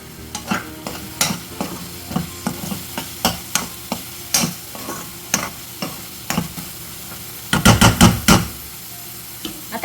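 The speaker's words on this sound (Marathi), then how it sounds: "आता मंद आचेवर ही ग्रेव्ही आपण पाच मिनिटं शिजवून घेऊया" Paneer masala gravy simmers and sizzles on a low flame while a spoon scrapes through it in steady, regular strokes, with a brief burst of quicker stirring near the end. It is close and clear, with no talking.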